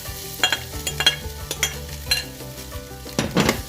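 Roasted pork filling for buns is tossed and stirred in a hot pan, with bursts of sizzling and clattering spatula scrapes in an uneven rhythm, close up and without speech.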